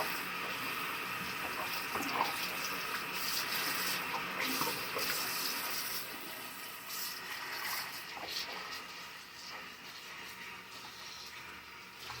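Dishes rinsed under a running kitchen sink tap: a steady broadband gush of water with splashes and intermittent clinks, close and fairly loud, easing slightly toward the end, no speech.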